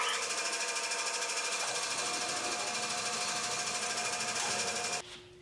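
Saw with a 3/4 inch wide, 14 teeth per inch blade cutting a clamped board, a steady loud whining buzz running for about five seconds before cutting off abruptly.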